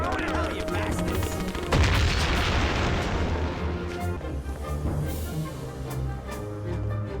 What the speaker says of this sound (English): Maybe we're lucky and some of them died in that explosion. That's a grenade.